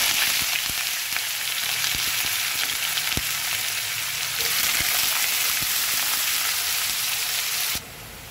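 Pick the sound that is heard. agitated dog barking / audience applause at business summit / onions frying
onions frying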